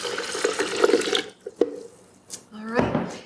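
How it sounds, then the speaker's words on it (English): Two cups of filtered water pour into a blender jar for making nut milk, a short splashing gush that stops, followed by a few clinks and a brief bubbling fill, fairly close. "So we're going to go ahead and pour the whole 2 cups in there."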